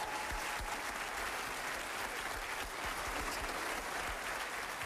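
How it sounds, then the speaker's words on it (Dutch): Audience of ladies and gentlemen applauds performers at a Dutch stage show, a continuous, full wash of clapping heard at some distance. "applaus voor Willy Brood en Suzanne"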